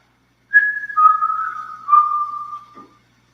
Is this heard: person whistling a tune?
yes